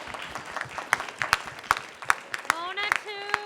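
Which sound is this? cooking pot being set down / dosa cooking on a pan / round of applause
round of applause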